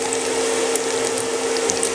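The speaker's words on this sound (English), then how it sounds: "The noise you hear is a fan underneath." A steady mechanical whir with a constant hum drones throughout, like an appliance fan running nearby, with faint ticking over it.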